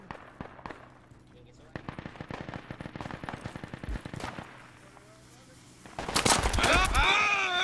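Gunshots crack out in the tactical military shooter Project Reality, a scattered series of sharp, fairly distant reports over background ambience, while squad members talk over radio and a louder burst of noise closes things out.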